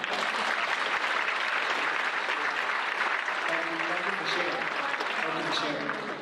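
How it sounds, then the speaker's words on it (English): A conference audience applauds in a loud, continuous round of clapping, with voices faintly audible beneath it toward the end. "Let's clap it up."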